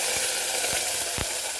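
Ground paste goes into a hot tempering of chana dal and urad dal in a pan for chitranna, giving a continuous sizzle broken by three short scraping bursts.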